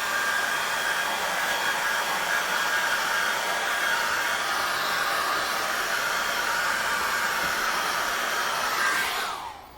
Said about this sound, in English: I'm just going to whap this with an hairdryer